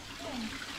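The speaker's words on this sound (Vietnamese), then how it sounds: "ở đây này có một cái nguồn nước suối, người ta nó chảy ở trên chảy xuống các bạn" Mountain spring water flows down at a Buddhist temple site, a steady, close rush of splashing water that fills the whole moment evenly.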